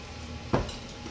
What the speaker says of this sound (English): I'm just gonna turn on my burner and begin to brown the meat